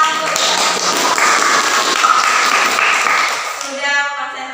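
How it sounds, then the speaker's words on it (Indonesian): Students in a classroom group guidance session burst into lively, dense hand clapping that tapers off near the end as a voice begins speaking. "Oke, tepuk tangan Bu"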